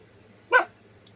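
A dog gives a single short bark indoors, loud against a quiet low hum, with nothing else around it.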